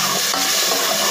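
Water is poured into a hot pan of masala with crushed chili, salt, turmeric and tamarind pulp, making a loud, steady hiss and sizzle throughout.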